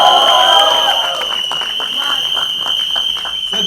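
An audience in a large hall applauds and cheers in a sustained, loud wash of clapping and crowd noise, with a steady tone and voices mixed in.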